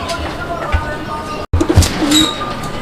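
A pair of pigeons coo in short low calls alongside a loud call around the middle, with people talking and handling noise close by.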